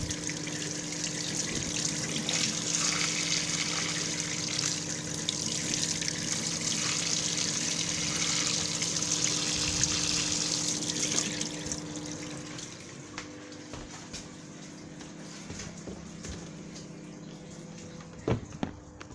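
Tap water runs steadily into a sink while an apple is washed, a constant splashing hiss that cuts off partway through, leaving quieter drips and small clatters.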